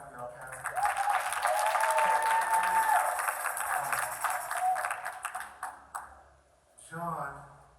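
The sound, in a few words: congregation applause for pastor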